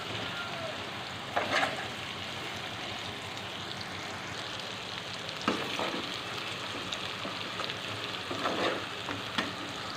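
Ginger masala frying in a pan while being stirred, a steady close sizzle with a few louder scraping stir strokes spaced through it.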